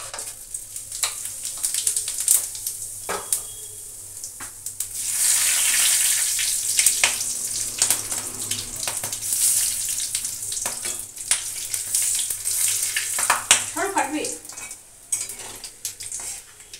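Whole spices (bay leaf, cumin, cloves, cardamom and cinnamon) fry in hot oil in a pan, giving a steady close sizzle with intermittent scraping and clinking as they are stirred.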